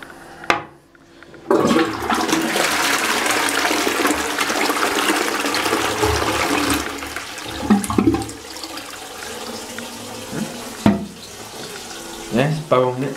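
An Armitage Shanks Sandringham toilet from 2014-2015 flushes with a loud rushing gush that settles into steady refilling water flow, close and continuous, with a few knocks and clunks along the way.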